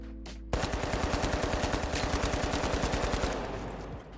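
A gun in the video game The Finals fires a loud, sustained automatic burst for about three seconds, each shot in an even, rapid rhythm before the sound trails off, with no voices over it.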